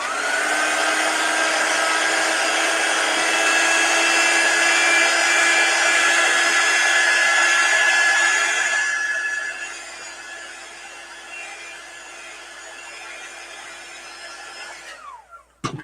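A hair dryer blows steadily on chalk paste drying on a fabric kitchen window swag banner, a loud continuous whirring hum that drops to a softer level partway through before cutting off.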